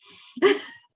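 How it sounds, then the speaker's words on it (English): Several dogs inside a house give a single sharp bark with a whimpering, breathy edge, close and fairly loud, over a quiet room. "I apologize for the dogs barking."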